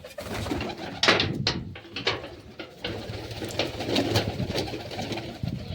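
Pigeons coo in a loft holding chicks, soft throaty calls overlapping at close range with scattered flutters and knocks.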